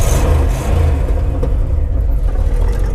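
A 1961 Cadillac Fleetwood Sixty Special with a 6.4L V8 pulls away, its engine giving a loud, steady low rumble with a slight rise as it accelerates, close by and without talking.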